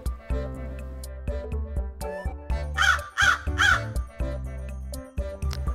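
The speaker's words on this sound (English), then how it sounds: "The crow quickly flew up to a nearby tree and started cawing loudly to distract the hunter." A crow caws loudly in three harsh, close calls grouped in the middle, set over a steady musical background in a children's story.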